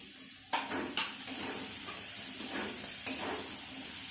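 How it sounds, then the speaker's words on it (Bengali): Peas, ginger and green chili fry in hot oil with a soft, continuous sizzle. Occasional scrapes of stirring stand out against the fairly quiet, close hiss. "এই যে এখন ওই তেলে কষা হচ্ছে"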